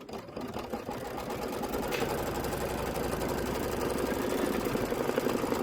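An embroidery machine sews a placement stitch for a Dreambook spine, a loud, steady rapid-fire needle clatter that builds over the first second and then runs continuously up close.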